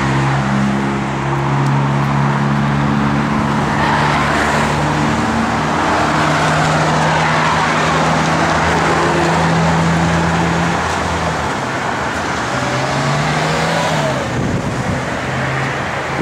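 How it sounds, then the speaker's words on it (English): A 1970 Buick Gran Sport's engine and exhaust rumble steadily and loudly nearby, with a deep, smooth tone that swells slightly in places, heard alone with no talking. "We got a beautiful exhaust. Got a great sound."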